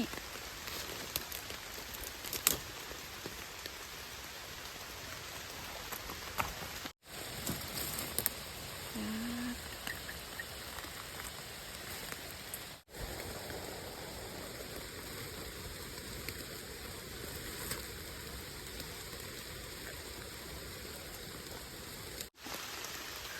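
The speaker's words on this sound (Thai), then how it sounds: "ฝนกระกระหน่ำลงมาดีดี" Heavy rain pours down steadily in a forest where mushrooms are being gathered, a dense, even hiss and patter that runs on at a quiet level with no voices.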